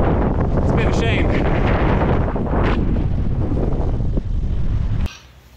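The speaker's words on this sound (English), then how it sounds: "We've got wind against me the whole way. A really strong wind." Strong headwind roaring against the microphone while cycling downhill on a mountain pass, loud buffeting gusts throughout that drop away abruptly near the end.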